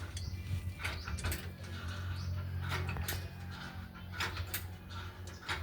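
Metal clanks, scrapes and ratcheting clicks come from work on a truck axle as the axle bolts and lock are removed for a brake lining change, irregular and fairly faint over a low steady hum.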